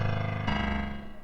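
Low piano doubling a pop bass line, run through a tremolo plugin at a 1/64 rate and full depth, giving a rapid fluttering pulse on two sustained notes that change midway, heard alone.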